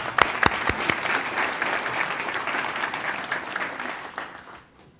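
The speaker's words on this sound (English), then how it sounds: "A round of applause." Clapping from the audience at the San Pedro 1 grand opening ceremony, starting with a few sharp, close individual claps, swelling into steady applause, then quickly dying away near the end.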